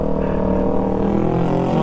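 A sport motorcycle overtakes on an uphill road, its engine a loud, steady, close drone with layered harmonic tones holding throughout, with no clear voices over it.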